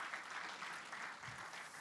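Applause from a business development forum audience, faint and distant, a steady patter of clapping that holds for a couple of seconds without speech.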